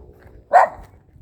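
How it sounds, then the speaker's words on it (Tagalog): A single dog bark, fairly close and loud, rises out of quiet outdoor ambience during a walk on Christmas Day. "Aso."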